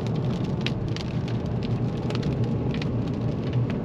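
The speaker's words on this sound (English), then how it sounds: "It's just this typical Appalachian mountain rain." Steady rain falls in an Appalachian mountain forest, a dense, even patter on surrounding surfaces that continues without a break and has no voices over it.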